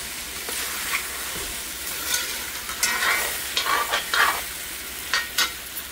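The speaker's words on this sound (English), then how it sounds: "Let it fry up a little, and then we gotta add in some water." Chana curry fries in a pan at home for Diwali, giving a continuous sizzle broken by several sharp scraping stirs of a spoon against the pan, heard up close with no talking.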